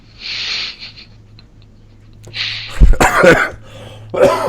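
A close, loud burst of harsh coughing breaks a quiet room, with breathy sounds and a low hum before and after.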